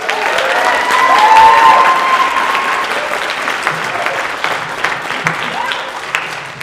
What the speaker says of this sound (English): Another round of applause for both choirs.